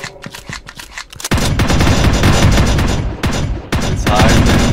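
Automatic gunfire in the shooter game Tactical Operations Force comes as rapid, loud bursts. Sparse sharp shots open it, then a long dense fusillade follows, broken by a brief gap before firing resumes.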